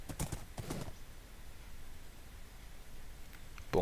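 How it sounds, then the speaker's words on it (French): Horse hooves clip-clopping in Minecraft, a few quick steps at the start, then a quiet stretch and another brief burst at the end, moderately loud with no talk. "Hop là, on part en cheval"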